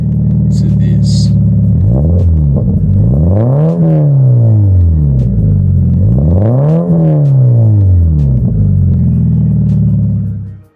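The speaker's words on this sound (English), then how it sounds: "A new aftermarket exhaust gives your 86 a deeper, more aggressive tone." A Toyota GT86 with an aftermarket exhaust revs loudly and repeatedly in quick rising and falling blips, giving a deep, raspy, aggressive tone close by over a steady rumbling idle.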